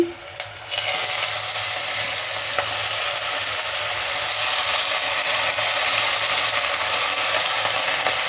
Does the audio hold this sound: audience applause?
no